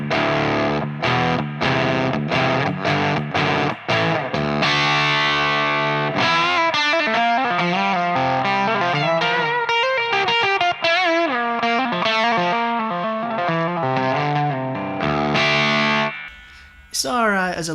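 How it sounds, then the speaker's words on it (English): An electric guitar runs through a Shinjuku drive pedal into the clean channel of a Mark 525 amp, giving a mildly overdriven tone: choppy chords first, then a sustained melodic lead line, loud and close, ending on a brief noisy cutoff. "The Shinjuku drive on its own, going into the clean channel of the Mark 525, just sounds like this."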